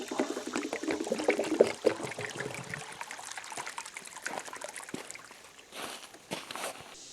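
Water trickles over Gold Hog Razorback matting on a gold sluice as the flow is shut off. A close, busy patter with faint steps mixed in gradually thins and quiets toward the end.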